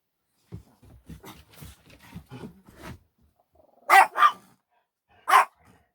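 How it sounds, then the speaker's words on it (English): Someone speaks briefly, then a dog barks sharply three times nearby: two quick barks close together, a pause, then one more. "That's going to set all the dogs off."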